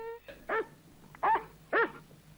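A cartoon dog gives three short, high whining cries, evenly spaced and fairly close, with quiet pauses between them.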